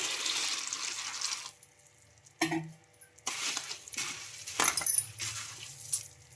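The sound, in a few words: water poured into bowl of puffed rice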